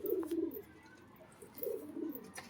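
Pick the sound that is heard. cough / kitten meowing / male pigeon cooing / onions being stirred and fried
male pigeon cooing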